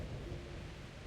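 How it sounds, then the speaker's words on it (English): A thunderstorm in Kingdom Come: Deliverance, a low steady rumble of thunder and rain filling the background, faint and unbroken with no distinct strikes. "Not afraid of thunderstorms, are you?"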